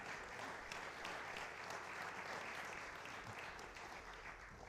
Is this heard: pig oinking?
no